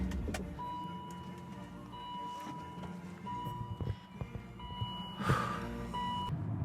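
A BMW E39 M5 that has just started for the first time runs with a deep, steady engine rumble, overlaid by a repeating electronic chime tone.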